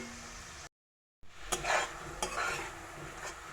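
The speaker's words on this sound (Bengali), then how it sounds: "এখন সুন্দর করে মশলাটাকে কষিয়ে নেব" A spatula stirs and fries Bengali masala paste moistened with a little water in a pan for eggplant and tangra fish curry, producing a steady sizzle with scraping stirs. The sound briefly cuts to silence near the start. No talking.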